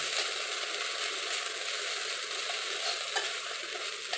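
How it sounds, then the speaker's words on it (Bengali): Ginger and green chili paste fries in oil while being stirred, a steady close sizzle with faint scraping, continuous throughout and without speech. "দিয়ে কিছুক্ষণ নেড়ে চেড়ে মশলাগুলি কষিয়ে নেব।"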